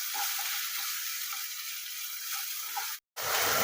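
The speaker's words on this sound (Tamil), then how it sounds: "இஞ்சி பூண்டு விழுதோட பச்சை வாசனை போகிற அளவுக்கு நம்ம வதக்கி விட்டுக்கணும்." Ginger garlic paste sizzles and sputters in a hot pan with a steady frying hiss, a few soft stirring knocks, then a brief silent gap before the sizzle resumes louder.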